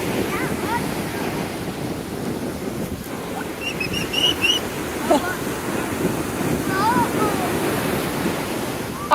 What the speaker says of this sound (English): But those waves will hit you hard.